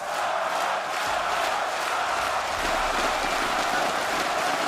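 A large crowd at a Dota 2 esports tournament in Birmingham roars and cheers continuously, a dense wall of voices and applause that stays loud throughout.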